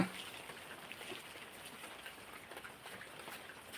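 Steady rain falls in a soft, even patter with faint scattered drops, quiet and continuous throughout with no voices.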